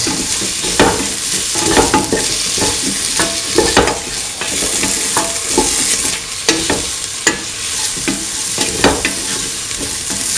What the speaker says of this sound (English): Mix the spices of garam masala.